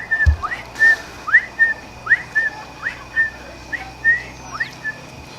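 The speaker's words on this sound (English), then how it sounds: "So we have what we call his signature whistle, which is like his own personal whistle on signal" A captive dolphin named Flagler gives his signature whistle, a string of about a dozen short, rising tonal chirps repeated in a steady rhythm over a low background hiss, with one low thump near the start.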